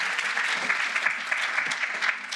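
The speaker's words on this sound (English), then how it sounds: "Give her a round of applause once more." A round of applause from the audience at a Start-up Day 2025 conference event, steady, dense clapping lasting a couple of seconds with no talk over it.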